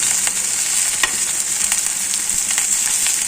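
Raw banana (vazhakkai) slices frying in a pan, giving a loud, continuous close-up sizzle with scattered crackles and light stirring clicks, with no talk.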